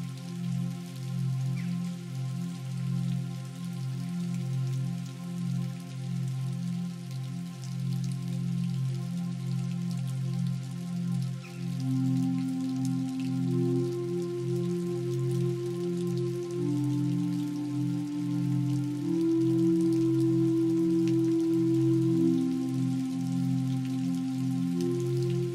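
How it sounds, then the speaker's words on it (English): Steady rain falls on a mountainside, an even wash of drops heard under sustained, slowly shifting musical tones that carry through the whole stretch. "And now the rain has come and is washing all the dust away."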